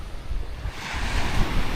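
Sea waves rush onto the shore on a windy morning while a strong northeast monsoon keeps fishing boats from going out, a loud, steady wash of surf with wind buffeting the microphone, and no talking.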